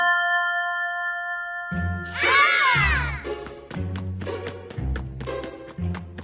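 A cartoon sound box plays a bright ting-ting chime: a sustained tone followed by a run of clear, metallic dings in an uneven rhythm, close and fairly loud, with no talking.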